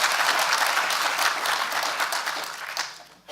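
An audience at a public lecture breaks into steady, dense applause. The clapping is loud and continuous, then thins and fades toward the end.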